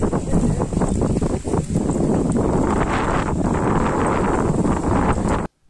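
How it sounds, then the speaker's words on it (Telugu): Strong wind blowing by the Godavari river among fields and a banana grove, a loud continuous roar buffeting the microphone before stopping abruptly. "ఈ గాలి చూడండి మీరే"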